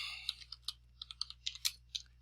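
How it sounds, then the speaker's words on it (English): Typing on a computer keyboard during an online search for a trial software version: a quick, uneven run of crisp, close key clicks, about a dozen taps in two seconds, alone over a quiet low hum. "I can go out here to the internet and I can type in trial version"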